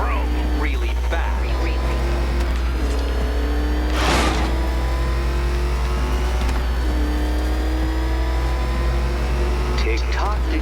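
The Batmobile in Batman: Arkham Knight gives a loud, steady engine drone with rising revs and a surge near the middle, and a voice talks over it throughout.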